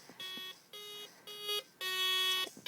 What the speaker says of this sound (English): And I'll set the alarm to go off.